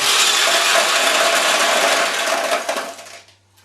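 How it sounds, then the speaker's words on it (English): Small steel balls pour out of a Daiichi single ball pachinko-style machine in a dense, continuous clattering rush that thins out and stops near the end, with a low hum underneath. "We're going to empty the machine, at least to a certain point here"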